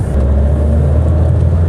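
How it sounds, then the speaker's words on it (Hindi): Car accelerating in second gear on a two-lane single-carriageway highway, with a loud, steady low engine drone and road rumble heard close from inside, brief and continuous. "सेकंड गियर में मेरी स्पीड पहुँच गई 60।"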